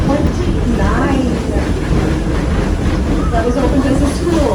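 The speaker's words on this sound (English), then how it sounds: "here comes the train." A train on the Greenfield Village Railroad, with Baldwin #7 and Edison #1 named, rolls past in a loud, continuous rumble with rattling wheel noise. A person talks over it.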